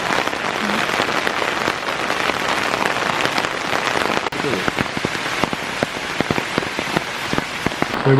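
Heavy rain falls steadily on an orchard on a Munnar hill-station trip, a dense, constant patter with sharp individual drops hitting nearby surfaces throughout.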